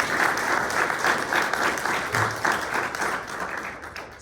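An audience applauding to welcome an award speaker at a 2021 academic award event: steady, full clapping from a sizeable crowd, close and continuous throughout.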